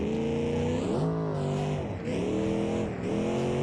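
A car engine in a BeamNG driving game revs hard through short gears, the pitch climbing steadily and dropping sharply at each shift, loud and continuous.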